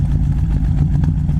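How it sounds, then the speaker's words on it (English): A 1938 Ford Tudor with dual exhaust runs at idle, a steady low burbling rumble heard close and alone for a moment. "Exhaust sounds good."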